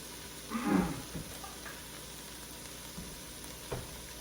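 Spices and garlic frying in a pot for spicy black bean soup, a steady quiet sizzle with a brief stir near the start and an occasional soft clink.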